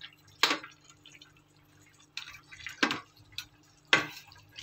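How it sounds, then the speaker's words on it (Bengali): Koi fish being stirred into a curry gravy with cauliflower, giving a few sparse, close scrapes and clinks of a utensil against the pot, quiet and spaced apart over a low background hum. "কই মাছটা ভালো করে ঝোলের সঙ্গে মিশিয়ে নিয়ে"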